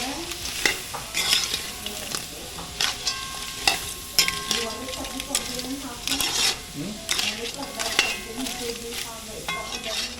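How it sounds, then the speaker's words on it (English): Curry being stirred in a pot, with repeated scraping and clattering of a spoon against the metal and a frying sizzle underneath, close and fairly loud, with occasional voices in the background. "Just stir up, Anna."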